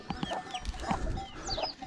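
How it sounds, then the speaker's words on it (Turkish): Chickens on a highland farm cluck and chirp repeatedly in an irregular rhythm, fairly close, with occasional higher squawks and no talking. "Tavuk çok"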